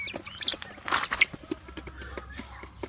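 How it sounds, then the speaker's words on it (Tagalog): Crossbred native chicken, a Bisaya hen's offspring sired by a large Shamo, gives soft clucks and brief chirps, faint and scattered among light background noise. "yung manok na to, Bisaya yung nanay, native chicken"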